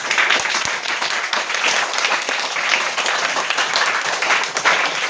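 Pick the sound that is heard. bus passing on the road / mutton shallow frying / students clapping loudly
students clapping loudly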